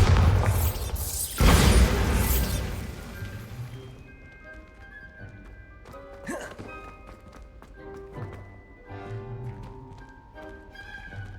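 A Bombarda spell in Hogwarts Legacy erupts in a loud, close explosive burst early on, then fades into a lighter tail of scattered taps, clatter and falling debris.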